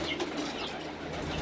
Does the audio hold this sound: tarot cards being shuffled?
no